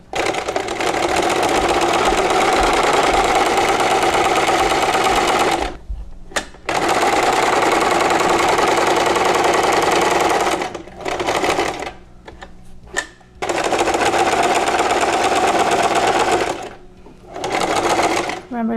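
A sewing machine stitches a fabric face mask, its motor running in long steady bursts with several brief pauses between seams, close and loud throughout.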